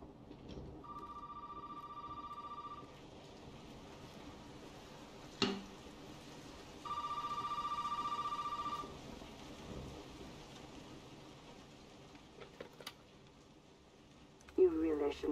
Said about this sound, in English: There was a phone out here somewhere, wasn't there?